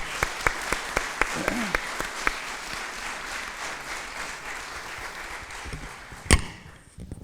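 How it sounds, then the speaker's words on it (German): A live audience in Aschaffenburg applauds, starting with a run of regular loud claps that blend into a sustained wash of clapping, ending with a sharp bump and a word spoken at the close. "Ein Applaus bitte für Tine, meine Damen und Herren."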